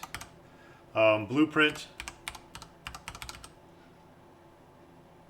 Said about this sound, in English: you're going to type in event